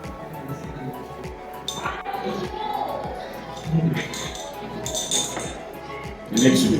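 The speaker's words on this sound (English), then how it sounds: "You can take it out and stir." Glassware clinks faintly as a solution is stirred during a redox titration in a chemistry practical, small light taps scattered over a busy room with background voices.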